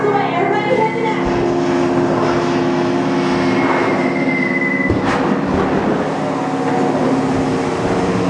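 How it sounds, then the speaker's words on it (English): Studio backlot special effect of enemy bomber planes approaching: a loud, sustained roaring engine drone with a rising whine and a rumbling swell near the end, alone with no talking. "Oh no, it's enemy bombers coming in fast."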